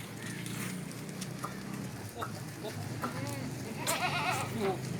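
Goats bleat in a busy livestock market, several wavering calls rising over a constant crowd murmur, with one close, strong bleat near the end.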